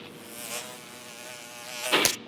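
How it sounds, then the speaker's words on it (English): Dense insect buzzing like a swarm of flies or mosquitoes, steady and close throughout, rising into a sharper, louder burst near the end. "So God sent swarming bugs."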